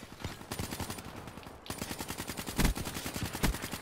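Rapid automatic gunfire rattles away in a video game shooter, with dense bursts of shots and a couple of heavier impacts standing out near the end.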